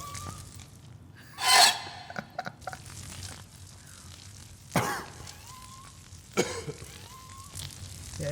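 A short cough-like firing burst from the magic stick weapon in the video game Sir Whoopass, clear and close, followed by a couple more brief coughing bursts amid quiet game ambience.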